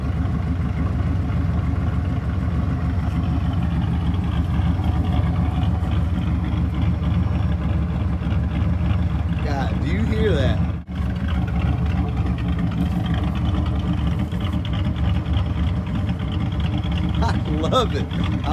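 A 1995 truck with a 302 V8 and an E303 cam runs at a steady, loud, close idle, with a lumpy rumble and a brief dip near the middle. Voices are heard over the engine.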